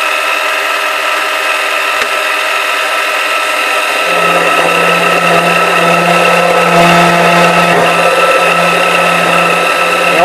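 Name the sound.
lathe parting tool cutting into a workpiece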